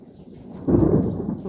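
Thunder during a strong summer thunderstorm with intense lightning, a low rumbling roll that swells suddenly partway through and keeps grumbling, moderately loud over quiet background.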